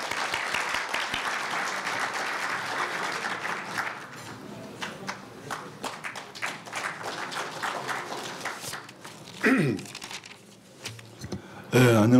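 Audience applause at the Korea University newspaper's 70th anniversary ceremony as the alumni association president is welcomed to the stage, a steady mid-level clapping that thins out partway through, with a few louder bumps near the end.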